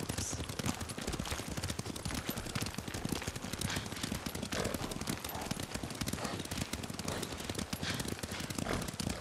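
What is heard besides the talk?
horse hooves clip-clopping while riding in video game Ghost of Tsushima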